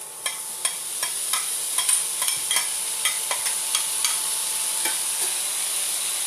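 Black beans sauté in a hot pan, giving a bright continuous sizzle with a string of sharp spoon taps and scrapes spaced through the stirring.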